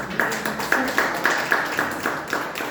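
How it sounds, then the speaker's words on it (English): Applause for the panelists at a joint Toastmasters club meeting, heard as a run of clear, evenly spaced claps that could be one or a few people clapping in a steady rhythm, fairly close and moderately loud. "A big round of applause to our panelists"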